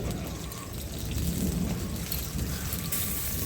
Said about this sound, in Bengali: ওইদিকে বৃষ্টি পড়ছে বলে এদিকে নিয়ে এসেছি ক্যামেরাটা, স্ট্যান্ডটা।